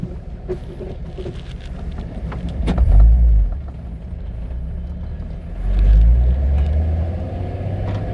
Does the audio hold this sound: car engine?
yes